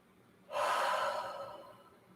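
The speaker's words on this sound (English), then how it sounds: "Big inhale, exhale, breath." One deep breath during a vinyasa yoga flow, a sudden airy inhale-exhale that starts abruptly and tapers off over about a second and a half, close and fairly soft.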